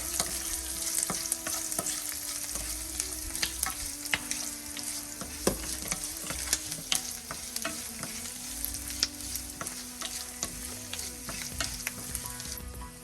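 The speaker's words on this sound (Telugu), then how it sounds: "అయ్యాక దీంట్లోనే గోంగూర, చింతపండు వేయించుకుందామండి." Oil sizzles in a pan as gongura leaves and tamarind fry for gongura pulihora after a garlic tempering, a continuous crackle broken by sharp spits and stirring clinks, with no talk.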